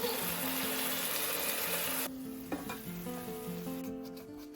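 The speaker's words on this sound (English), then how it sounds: "Then I cook them in a pan until they are nearly brown and juicy." Meat patties fry in a pan with a loud, steady sizzle that drops off sharply halfway through, leaving a quieter crackle with a few soft clinks and stirring scrapes over low background music.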